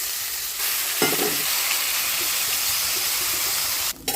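Fish curry with ginger, cumin and tomato bubbling and sizzling in a pan, a steady close hissing fry that runs throughout with a brief stir sound near the start and a short break near the end.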